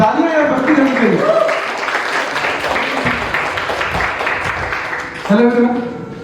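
Audience applause for a performer at a Hindi poetry open-mic, a dense wash of clapping lasting several seconds, with an announcer's voice at the start and end.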